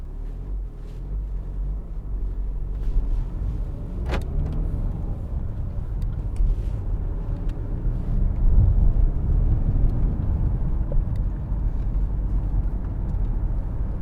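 A 2010 BMW 318d ES Touring diesel estate with a six-speed manual gearbox is driving, heard from inside the cabin as a steady low engine and road drone that swells slightly midway, with no talking.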